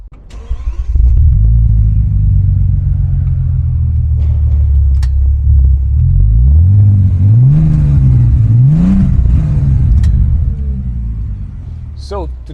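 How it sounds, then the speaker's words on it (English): A 2006 Bentley Continental GT starts off and drives, its deep engine rumble swelling and rising in pitch through several revving pulls before easing off, loud and close from inside the car. "So now let's take it out for a drive."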